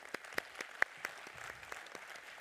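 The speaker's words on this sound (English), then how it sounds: "please just have a round of applause for our speakers" A plenary audience applauds its speakers, scattered individual claps ringing out at a distance, fairly quiet and uneven.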